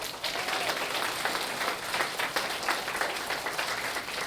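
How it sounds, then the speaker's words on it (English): Audience applause after a story at a reading event, a moderate, steady wash of many hands clapping, somewhat distant and fairly quiet throughout. "So give them a round of applause"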